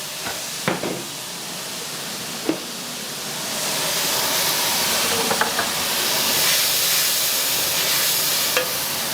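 Onions fry and hiss in a pan, a steady sizzle building louder as they are stirred, with occasional clinks of utensil against the pan and no talk.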